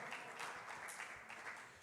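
A church congregation applauds together in a faint, steady patter of many hands clapping, heard alone with no talking.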